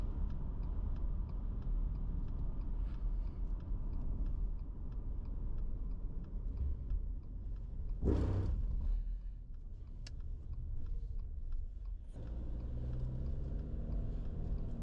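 Car driving along the Sezela off-ramp onto the road on the KZN South Coast, a steady low road rumble from inside the cabin with a couple of brief louder whooshes, no talking.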